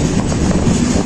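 A train rolling through a railway station without stopping, a loud close rumble of wheels and carriages filling the short moment.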